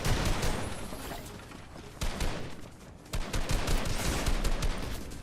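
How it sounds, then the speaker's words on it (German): Dense gunfire in the video game Fortnite, rapid overlapping shots and bursts with short lulls, fairly loud and crackling, with no speech. "Der andere schießt"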